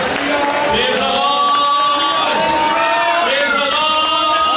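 A church congregation at a Sunday service cheers and shouts in praise, a loud, dense wall of many voices that holds steady throughout.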